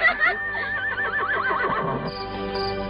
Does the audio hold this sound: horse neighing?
yes